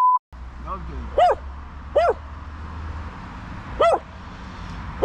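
A dog, a guarding pet found beside a man lying in a roadside ditch in the woods, barks a few separate times with pauses between, close and fairly loud over steady low background rumble.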